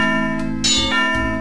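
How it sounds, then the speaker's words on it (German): Bell in the video game Simon the Sorcerer struck once with its clapper, a loud ringing clang that rises partway through and hangs on with a sustained metallic tone. "Benutze den Klöppel mit der Glocke."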